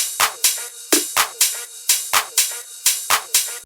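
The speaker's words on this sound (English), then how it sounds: "this is what it sounds like without the processing." A tech house drum bus, with every drum except the kick and no processing applied, plays a steady loop of crisp, evenly spaced percussive hits that repeat at a quick, regular rhythm with no voices.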